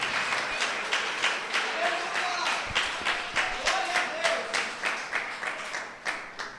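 A church congregation claps in praise during a worship service, a fairly loud, lively applause with a pulsing rhythm and voices mixed in underneath.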